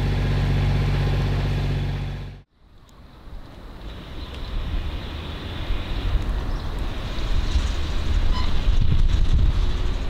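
Wind gusting around a moored sailboat in strong forecast winds, a steady broadband rush that builds louder over the clip after a brief drop near the start, with no voices.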